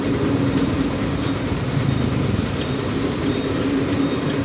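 A passenger train at a railway junction, heard as a steady, loud rumble with low engine drone and faint wheel clatter throughout, with no voices.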